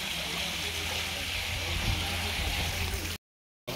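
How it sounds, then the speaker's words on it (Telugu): Water pours steadily from the mouths of Nandi statues into a temple tank, a constant hissing, gushing rush close by that cuts off abruptly at the end. "ఇలా నంది నోట్ల నుండి వాటర్ ఎనీ టైం వస్తూనే ఉంటుంది"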